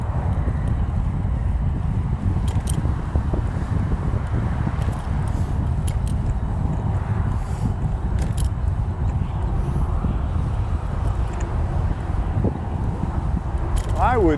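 Steady wind roars and buffets against the microphone throughout an e-bike ride into a headwind near Selah, Washington, loud and unbroken with no pauses.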